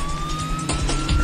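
A police car siren wails in State of Decay 2 as a steady, loud electronic tone over low engine rumble, ending with a heavier thump of road noise.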